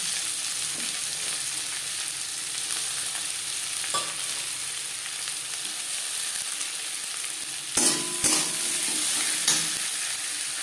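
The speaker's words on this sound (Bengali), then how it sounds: "মাছ ভেজে নেওয়ার তেলে দিয়ে দেবো পেঁয়াজ কুচি" Chopped onions sizzle in the oil left over from frying fish, a steady close crackle with a couple of louder spatters or stirs near the end.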